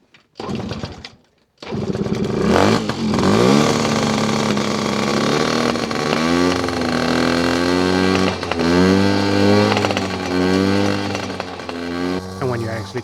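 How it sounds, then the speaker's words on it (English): Yamaha PW50 dirt bike with a single-cylinder engine that struggles and backfires, revving loud and close with rising and falling pitch after a brief cough and pause, running roughly and unevenly throughout. "The boys really enjoy driving the dirt bike, but that ain't fun when you struggle to start it."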